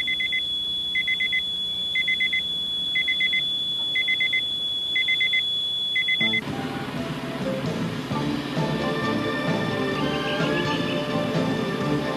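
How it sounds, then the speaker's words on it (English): A smoke alarm beeps in a steady repeating pattern, loud and close, then stops as a louder mix of other sounds takes over. "Oh, those damn smoke alarms."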